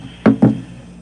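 Two sharp hammer blows land on a nail, close and loud in quick succession, during installation of a vinyl plank floor indoors.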